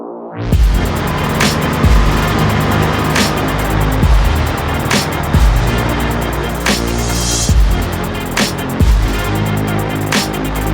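A Ford Mustang engine cranks and catches, then runs loud and close, with repeated revving surges and a rough, pulsing idle between them.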